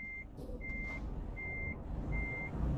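Reversing beeps of a truck backing up in Euro Truck Simulator 2: four evenly spaced high-pitched tones over a steady, loud engine rumble, with no talking.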